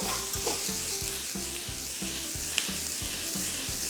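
Broccoli and tofu stir-frying in a hot pan, a steady loud sizzle with rhythmic scraping strokes as the food is tossed, close and continuous with no voices.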